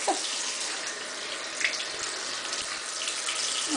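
Tap water runs steadily from a faucet into a sink as someone rinses their arms and elbows, a close, continuous broadband hiss and splash with no talking.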